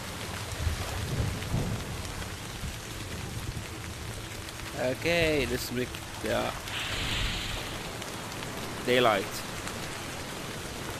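Rain and rolling thunder in the VR game Nature Treks, a steady wash of rainfall with low rumbles, while a person talks over it and a bird-like call cuts through near the middle.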